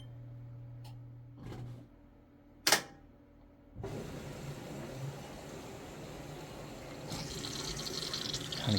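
A washing machine filling with water for a wash with eco-friendly plant-based detergent sheets, a few clicks and a sharp clunk, then a steady rushing flow of water that grows slightly louder, no talking.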